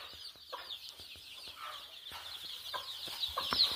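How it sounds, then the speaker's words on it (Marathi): White Gavran and Kaveri chickens cluck in a farm setting, a quiet run of short clucks and scratchy calls over steady bird chirping, growing a little louder toward the end. "आता तुम्ही पाहू शकता ते पांढरा पक्षी आहे तो ओरिजिनल गावरान आहे आणि त्याच्यासोबत दुसरा पांढरा आहे ते कावेरी।"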